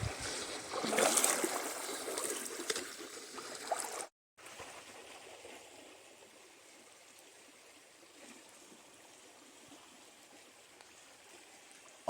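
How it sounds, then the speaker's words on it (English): Wading across a cold river produces close splashing and rushing water for about four seconds, then a softer steady flow of the stream continues in the background. "All that river crossing made me thirsty."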